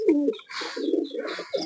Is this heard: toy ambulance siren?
no